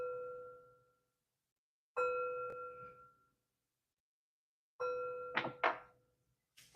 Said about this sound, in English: 3 chimes to bring in positive energy